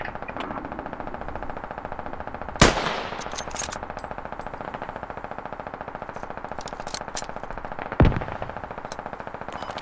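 Machine gun fire in the Squad military shooter game rattles in a continuous, rapid stream of evenly spaced shots, with two louder, sharper blasts standing out. The sound is close, dense and steady, and no one speaks.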